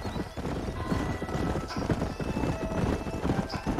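Horses trot in the video game Red Dead Redemption, a steady close clip-clop of several sets of hooves running continuously, with an occasional whinny rising above the beat.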